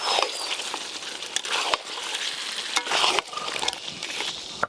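Goat meat curry with chopped tomato is stirred in a pan, a soft continuous sizzle with several sharp scrapes and knocks of the spoon against the pan.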